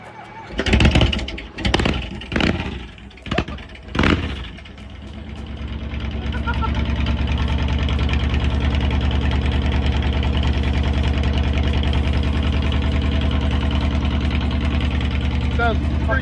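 A Kawasaki VN2000 motorcycle, cold and long unstarted, cranks in several loud bursts before catching into a steady, deep, rumbling idle that holds close and even to the end, with voices faintly underneath.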